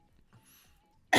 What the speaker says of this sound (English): I need a cough.